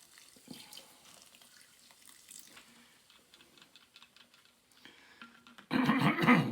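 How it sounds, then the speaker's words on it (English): Coca-Cola poured into a crockpot while making barbecue chicken, a loud close splashing, fizzing pour that starts abruptly near the end after quiet kitchen clatter. "So you pour the Coca-Cola in here."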